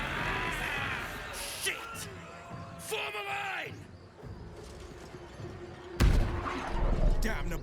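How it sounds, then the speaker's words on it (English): Cannon fire in Baldur's Gate 3 lands as a single heavy boom near the end, preceded by loud shouting and yelling voices in a chaotic battle. "Cannon!"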